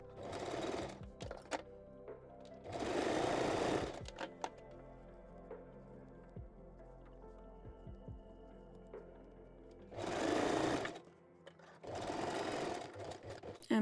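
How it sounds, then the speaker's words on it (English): A sewing machine stitches elastic onto a ruched bikini bottom, running in four separate loud bursts of steady whirring with quiet pauses and small clicks and handling noises between them. "Back stitch first, and then stretch the elastic"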